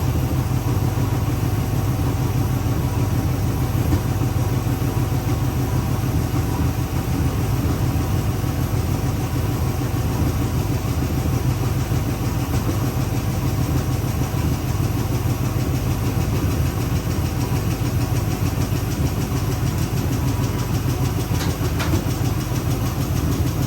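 A running 265 engine in a Chevy Bel Air idles with a steady, dense mechanical drone and a faint ticking from the lifters, continuous and close throughout with no talking.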